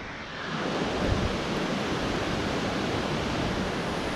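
The Spumoasa waterfall in the Bucegi mountains, a steady broadband roar of falling water, loud and unbroken, with no voices.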